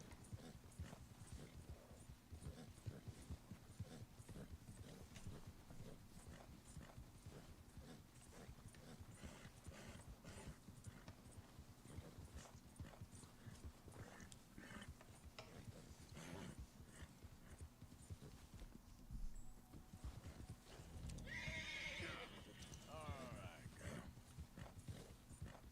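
In Red Dead Redemption 2, a black Shire horse is ridden at night through snow, its hooves thudding in a quiet, steady rhythm under a faint low hum, with a brief rustle near the end.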